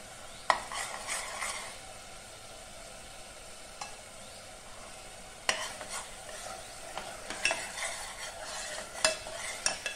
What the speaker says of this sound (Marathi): मसाल्याला तेल सुटेपर्यंत चांगलं परतून घ्यायचं आहे.